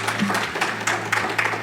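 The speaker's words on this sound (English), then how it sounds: "these guys deserve another round of applause" A round of applause in a renewable energy summit hall, a short burst of fairly loud clapping from an audience over a steady electrical hum.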